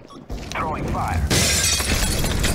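An incendiary grenade in CS:GO, thrown and then bursting with a bright shattering crash followed by sustained hissing fire, with voice-like sounds from the game mixed in.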